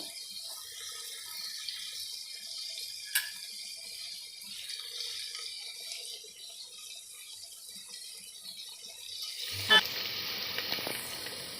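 Soaked dried white peas sautéing in a pan, a faint, steady low sizzle with a sharper clatter near the end, quiet and close, no speech.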